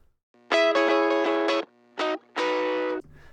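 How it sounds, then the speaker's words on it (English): Tube-distorted guitar chords, gritty and saturated, ringing in three bursts with short gaps between them. "we're getting a healthy bit of distortion with this tube circuit"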